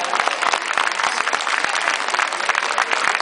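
A crowd claps loudly and steadily, dense applause filling the whole moment without pause.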